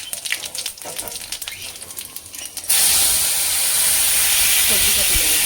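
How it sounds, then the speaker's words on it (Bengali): Dry red chillies and five-spice dropped into hot oil for a drumstick and catla fish dish, a sudden loud hiss that erupts midway and stays strong and sustained after quieter kitchen sounds. "এই গরম তেলে এক এক করে এই যে শুকনো লঙ্কা আর একটু 5 ফোড়ন"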